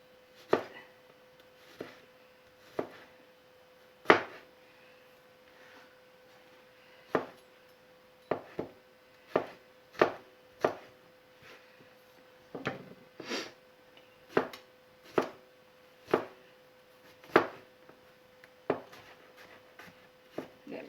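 Knife slicing through the tip of a vegetable on a cutting board while making fried rice, a series of sharp, close chops in an irregular rhythm with short pauses between strokes.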